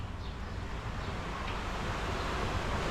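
Steady, roaring wind buffets the microphone at a campsite in Lian, Batangas, Philippines, ahead of a thunderstorm, a continuous broadband rush with no voices.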